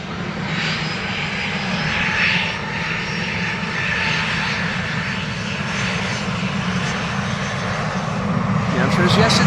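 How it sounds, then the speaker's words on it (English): A KLM Boeing 737-700 departs Schiphol with a loud, steady engine roar that builds near the end, a voice speaking over the rumble. "KLM flight 1295 to Billund. KLM 737-700."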